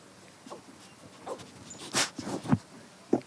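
A racing team's Finnish dog at the Leogang downhill World Cup gives a few short whimpers and snuffling yips, scattered and close, between quiet pauses.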